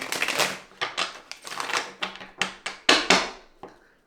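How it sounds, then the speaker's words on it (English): A deck of tarot cards being shuffled: a run of quick crisp riffling snaps and taps, close and fairly soft, in irregular bursts with brief gaps, no talk. "I'll give these just another shuffle here"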